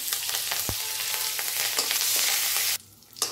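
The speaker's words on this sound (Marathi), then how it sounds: "आता याच तेलामध्ये धुतलेला हा कढीपत्ता टाकायचा आहे." Washed curry leaves frying in hot oil for a crisp, low-oil Diwali chivda, giving a steady close sizzle with a few sharp crackles and stirring clinks, then briefly dropping quieter near the end.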